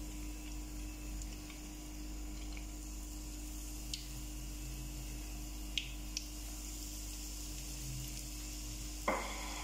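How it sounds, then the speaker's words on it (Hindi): Chicken drumsticks sizzle steadily in hot oil, a soft continuous frying hiss with a few faint ticks and one sharper clink near the end, with no talking. "तो जनाब ऑयल हमारा अच्छी तरह से हो चुका है गरम। अब हम इसमें शिफ्ट करेंगे"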